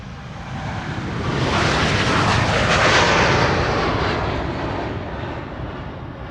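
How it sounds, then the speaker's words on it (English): A KLM passenger airliner at Amsterdam Schiphol Airport, bound for Portland, Oregon, roars with a broad jet-engine rush that swells to a peak mid-pass and eases slowly away, loud and steady with no talk. "This is KLM flight 615 to Portland"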